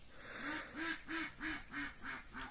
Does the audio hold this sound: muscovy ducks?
yes